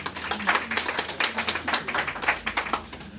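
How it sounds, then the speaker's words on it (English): Scattered audience clapping at an outdoor ecology park awards event, individual claps distinct and uneven, a modest crowd applauding close by for a few seconds. "Give yourselves a round of applause for being here with us today"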